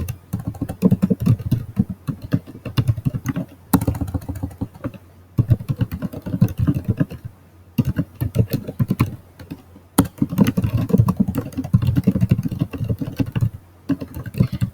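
Steady bursts of computer keyboard typing, close and clear, with a few short pauses between runs of keystrokes as notes are written.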